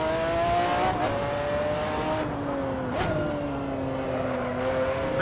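McLaren F1 GTR race car in Assetto Corsa revving hard under acceleration, engine pitch climbing then dropping at quick gear shifts around one and three seconds, with a brief tire squeal, loud and continuous throughout.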